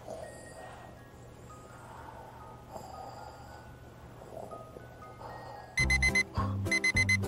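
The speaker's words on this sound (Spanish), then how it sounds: "¡Ahí está la alarma de nuevo!" A clock alarm rings in loud repeated electronic beeping bursts near the end, after a stretch of quiet background with faint tones.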